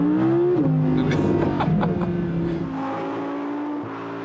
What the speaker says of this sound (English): I get even more sound from the exhaust